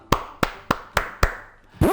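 Five sharp, evenly spaced hand claps ring out in a steady rhythm, close and alone, followed by a brief tonal sound, in a classroom setting during a learning game session for teachers.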